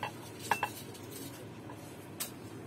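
Light ceramic clatter as a 17 cm deep plate is handled, with a couple of quick clinks early on and one more later, fairly quiet.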